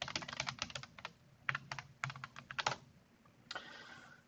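Rapid bursts of key presses on a computer keyboard while a system password is entered, with clustered clicks, short pauses and a final quicker run of keystrokes, heard close and alone.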